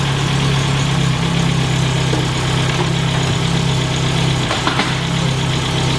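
An MG car's engine idles just after starting, a loud, steady, low hum with a constant even rumble and faint mechanical ticking, close by and with no talking.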